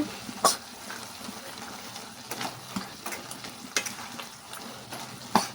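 Brinjal tomato curry with coriander powder stirred in a pan, a soft sizzle beneath several crisp scrapes and clinks of a spoon, spaced unevenly, close up with nobody talking.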